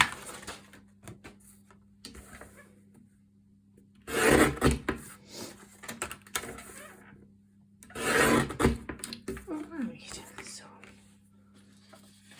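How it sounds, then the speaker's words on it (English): Cardstock topper sheet trimmed in half on a paper trimmer, two loud scraping, rasping passes of the blade a few seconds apart, close up, with soft whispered talk and light handling noises between them. "I'm going to trim down the sheet in half."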